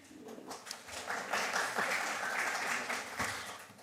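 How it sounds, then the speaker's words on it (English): Round of applause in a Senate Judiciary subcommittee hearing room, a steady wash of clapping that swells after the first second and holds fairly evenly before thinning out. "Yes, a round of applause is certainly welcome"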